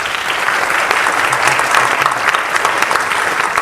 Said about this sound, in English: please join us in a warm round of applause for our first candidate, Mr. Lance Ahern.